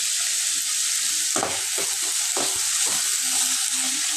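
Onions and tomato sautéing in oil with cinnamon and cloves, a loud, close, continuous sizzle with several scraping stirs of a ladle through the pan.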